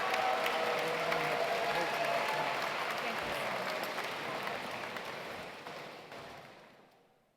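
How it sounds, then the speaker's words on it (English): Audience applause at the 2018 Science Olympiad National Tournament closing ceremony, a dense steady clapping from a large crowd that gradually fades out over several seconds. "Give him a big round of applause as well."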